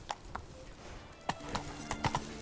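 Roach the horse's hooves clip-clopping in The Witcher 3, with scattered quiet hoof beats at an uneven pace amid faint ambient game sounds and soft tonal effects.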